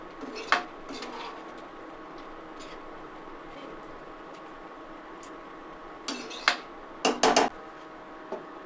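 A spoon scrapes and knocks against a pot while a fenugreek leaf curry mixture is stirred, with a few sharp metallic clinks and clatters standing out against a quiet kitchen background.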